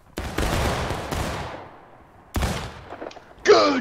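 A volley of rifles fired together by a line of soldiers in the Civil War game War of Rights, a crackling ragged burst of shots followed by a second scattered burst and one sharper final crack.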